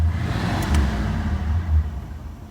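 A 1966 Ford Galaxie 500 with a 7-liter V8 idles close by, a steady low rumble with slight rises in throttle. No one speaks.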